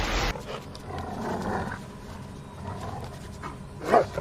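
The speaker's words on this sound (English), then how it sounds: "this dog asking for help" A dog whines and pants for help in The Walking Dead episode "Find Me", with soft, breathy panting over a dull, rumbling background and a short, louder yelp near the end.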